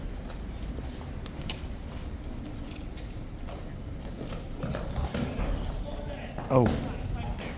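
Police horses' hooves clop along a hard surface at Horse Guards in an uneven rhythm, half buried under steady crowd and traffic noise, with voices talking nearby.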